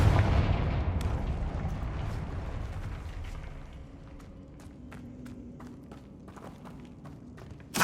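A Confringo fire spell explodes in the Hogwarts Legacy video game: a booming blast at the start decays into rumbling, followed by scattered sharp impact clicks and a final burst at the end.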